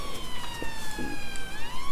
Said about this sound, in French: petit avantage, c'est qu'on a plusieurs sirènes